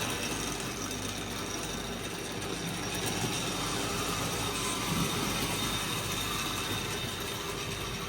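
An old electric motor running after 30 years in storage, a steady even mechanical hum and whir with a faint high whine, continuous and unchanging, no voices.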